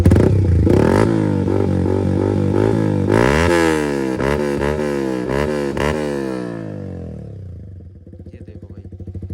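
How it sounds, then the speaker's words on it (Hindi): Yamaha R15 V4 motorcycle with a loud Akrapovic exhaust revved repeatedly, the engine note sweeping up and down several times close by, then settling back to a rough idle. "अब आप थ्रोटल नोटिस करें।"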